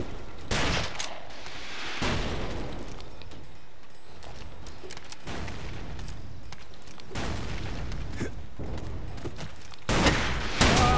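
Rapid bursts of gunfire from the blocky shooter Ace of Spades crackle through the whole stretch, dense volleys and single shots clustered in waves with brief lulls, loud and close, no talking.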